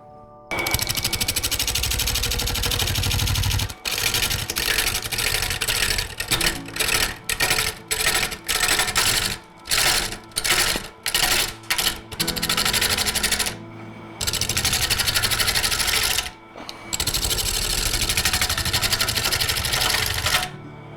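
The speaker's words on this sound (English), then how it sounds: "I'm using another method now of using the roughing gouge, and that is like a plunge method" A wood lathe turns a Greek-style urn from a log while a roughing gouge makes plunge cuts. Loud, harsh scraping comes in short bursts that start and stop in quick succession, with a few longer runs. No one speaks.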